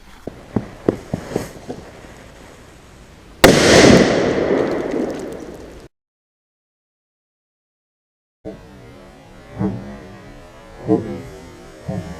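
A firecracker blows up a Nokia phone: a few sharp pops, then a loud sustained crackling burst lasting about two seconds, abrupt silence, and afterwards scattered fainter pops and crackles outdoors.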